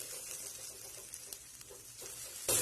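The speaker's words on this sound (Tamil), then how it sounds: "நல்லா லோ ஃப்ளேமில் வச்சுட்டு நல்லா வதக்கி விட்டுக்கோங்க" Tomatoes with ginger-garlic paste sautéing in a pan over a low flame for a brinjal gravy give off a soft, steady sizzle with light stirring scrapes, growing louder near the end.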